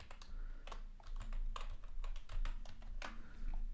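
A computer keyboard is typed on at close range with quick, uneven bursts of light key taps and short pauses, as if entering a password, heard alone and fairly quiet.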